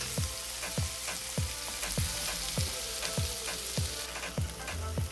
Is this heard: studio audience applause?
no